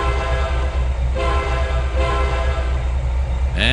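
A train in the Trainz 2022 railway simulator starts moving in reverse, giving a steady loud rumble with tonal engine drone and faint rhythmic clatter, and a rising whine near the end.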